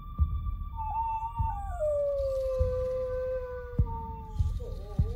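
Dogs howl as a ghost-story sound effect: one long, wavering, drawn-out howl rises and slides slowly downward, then breaks into shorter quavering cries, set against a low rhythmic throbbing like a heartbeat.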